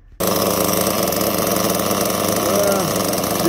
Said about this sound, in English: fire this baby up. See what kind of idle we got.